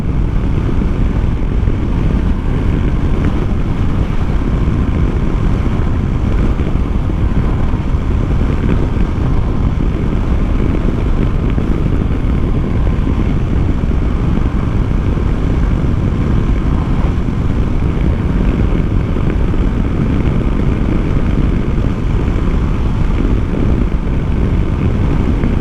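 A Yamaha Tenere 700 adventure motorcycle climbing a mountain road, heard as a loud, unbroken rumble of engine and rushing wind that stays steady throughout.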